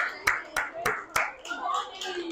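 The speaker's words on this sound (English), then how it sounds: "Round of applause." Students at Booker T. Washington High School clap for a volunteer: four sharp, evenly spaced hand claps ring out close and crisp, then give way to murmuring voices and loose chatter.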